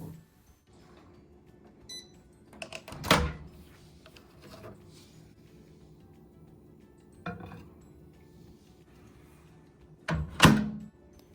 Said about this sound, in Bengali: এবার আমি বাটিটিকে মাইক্রোওয়েভ ওভেনে দিয়ে দেবো